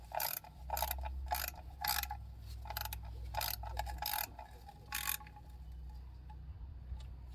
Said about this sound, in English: so we'll torque them down